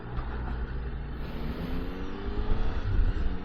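Steady road traffic rolls past a broken traffic light, a continuous low rumble of cars and heavier vehicles building slightly toward the end, with no talk.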